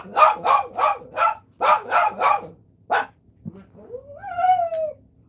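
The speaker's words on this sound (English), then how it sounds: "they are going to bark" Several dogs bark in quick bursts, nearby and loud, then a rising, wavering whine or yip follows after a short pause.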